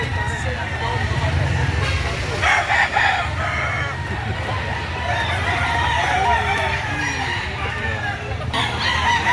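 Roosters crow repeatedly across a busy early-morning chicken market in Lipa City, Batangas, with clucking fowl and a steady crowd murmur; people talk throughout.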